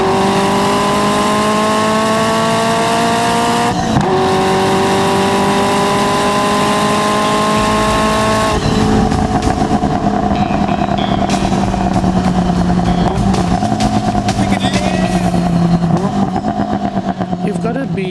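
A Ferrari F40 engine revs hard and loud, pitch climbing through gear changes with a brief drop and surge, roaring continuously near the listener.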